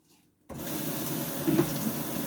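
Kitchen tap water running steadily into a sink as gloved hands are rinsed while cooking, starting abruptly after a brief silence and continuing as an even, close splashing flow.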